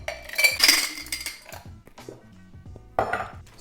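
Ice cubes clatter and rattle into a metal cocktail shaker in bursts, followed by a few scattered clinks and a final rush of ice.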